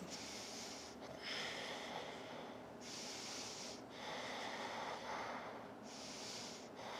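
Slow, deep breaths during yoga practice, each long airy inhale and exhale rising and falling in a steady cycle, soft and close with no talking.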